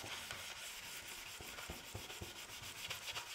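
Wooden table finish being rubbed back with an orange Nyweb abrasive pad, a close, soft scratchy rubbing in quick repeated back-and-forth strokes, heard alone without talking.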